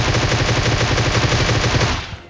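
Rapid automatic gunfire from the mobile battle-royale game PUBG Mobile, a loud dense burst of shots in quick rhythm that cuts off after about two seconds.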